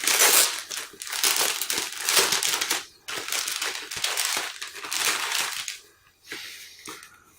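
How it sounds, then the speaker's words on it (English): Resealable plastic bags holding 1:12 scale bonsai model kit parts crinkle and crackle continuously up close, the rustling loud and busy with a couple of brief pauses. "So it's resealable bags."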